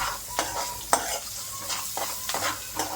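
Green chillies frying in a home kitchen pan are stirred with a utensil, giving a steady soft sizzle broken by several sharp scraping strokes at irregular intervals, close and quiet.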